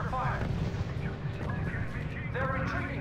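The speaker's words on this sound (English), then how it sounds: "Our units are under fire." Gunfire and artillery fire rumble steadily through a battle in the strategy video game R.U.S.E., a dense continuous barrage mixed with radio-style voice chatter and tones throughout.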